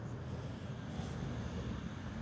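A fast airplane passes high overhead as a faint, steady broadband roar, heard alone without talk.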